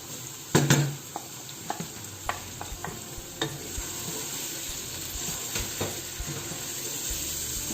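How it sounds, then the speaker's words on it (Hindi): Spices frying in a pan for a chicken curry with green beans and potatoes, a steady sizzle with repeated scraping stirs and clinks of the spoon against the metal, close and continuous with no voices. "मसाले डाल के इसको थोड़ी देर के लिए भूनेंगे।"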